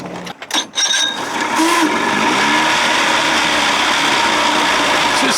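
A 55 hp Evinrude outboard motor runs at a rough idle after a few knocks and sputters, then settles into a loud, steady close-up drone with no talking.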